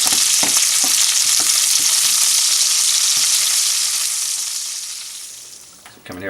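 Brussels sprouts sizzle and fry in a pan as they caramelize, a steady loud hiss with occasional stirring clicks, fading toward the end.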